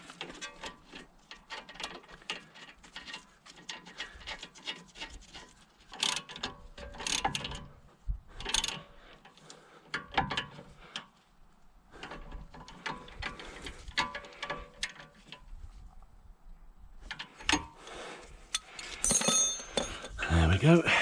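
Ratchet spinning on the anti-roll bar drop link nut of a BMW 1 Series during shock absorber replacement, giving bursts of fast mechanical clicking and clatter spread across the clip, fairly close, with quieter pauses between.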